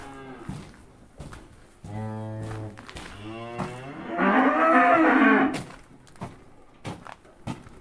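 Cattle and calves in a village barn give several loud, close moos, from short lower calls to a long, strained bellow, with a few knocks and thuds between them.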